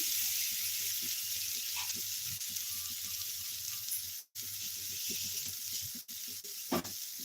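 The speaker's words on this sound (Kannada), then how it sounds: "ಸ್ವಲ್ಪ ಚೆನ್ನಾಗಿ ಫ್ರೈ ಮಾಡ್ಕೊಳ್ಳೋಣ ಈ ರೀತಿ" Dry fish frying in a pan, being cooked for a dry fish gravy, gives a close, steady, dense sizzle with faint stirring scrapes. The sizzle cuts out briefly once partway through, and no one speaks.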